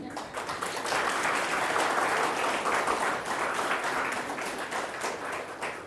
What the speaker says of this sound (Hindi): एक बार बजाओ ताली सारे।